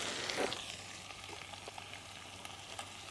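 Green chillies with onion frying in a pan, a soft steady sizzle with light scattered stirring clicks, quiet and close, no talk.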